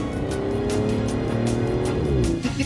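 An Aston Martin sports car accelerates hard, its engine note rising steadily and loud and close throughout, with faint tire noise and no voices over it.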